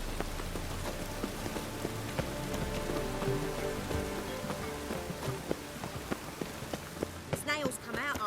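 Rain falling in The Witcher 3: Wild Hunt, a steady patter of drops on surfaces with scattered sharper taps, heard under a running soundtrack, with a faint fluttery burst near the end.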